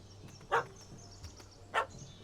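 Two sharp dog barks from a video game, The Witcher 3: Hearts of Stone, come about a second apart over a low ambient hum.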